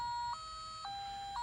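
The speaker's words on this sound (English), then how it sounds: "Yep, that annoying chime." Warning chime in a 1996 Volkswagen MKIII, a steady electronic tone with repeated bright pings about every half second, close and clear inside the car.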